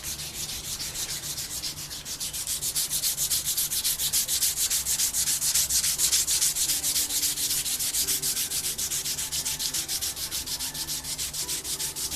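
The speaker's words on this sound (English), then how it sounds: "this is the process that takes long too, is sanding" Sandpaper rubbing on a wooden taiaha, a traditional Māori carved staff, in quick, regular back-and-forth strokes that form a continuous rasping rhythm, close and clear for the whole stretch with nobody speaking.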